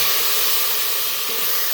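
Tomatoes hit a pan of frying onions with a steady, loud, close sizzle: an even hiss of spitting oil that holds without a break and has no voices over it.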